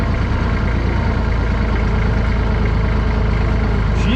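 A tractor engine runs at a steady, heavy low rumble with a rapid regular chug as it pulls a dump trailer outdoors, loud and constant throughout, with no voices.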